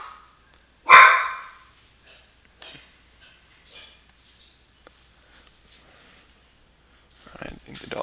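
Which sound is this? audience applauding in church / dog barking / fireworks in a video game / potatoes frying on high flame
dog barking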